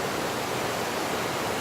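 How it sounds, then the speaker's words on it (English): The Nooksack River flowing through woods near a gravel road, a constant, even rushing of water at moderate volume that fills the whole stretch with no pauses and no voices. "This is the Nooksack River behind me."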